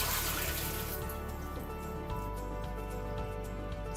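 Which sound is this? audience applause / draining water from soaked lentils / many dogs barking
draining water from soaked lentils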